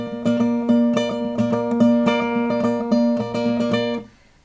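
Fingerpicked guitar playing a picking pattern, the thumb starting on the fifth string: steady, close plucked notes ringing over a sustained bass line, alone, ending in a quick fade.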